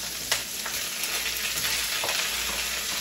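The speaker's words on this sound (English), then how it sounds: "I'm actually going to put the vegetables in, because the vegetables are going to take a little while longer to cook." Vegetables frying in a hot pan for pepper steak, a dense, steady sizzle with faint stirring taps, close and continuous from start to finish.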